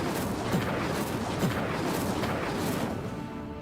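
Incendio fire spell cast in the Hogwarts Legacy video game, a steady roaring whoosh of flames with dull thumps underneath that holds at even loudness throughout before easing slightly at the end.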